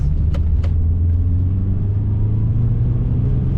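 Car engine drifting on an icy hairpin, a loud continuous low rumble with a steady drone, preceded by two short sharp scraping bursts at the start.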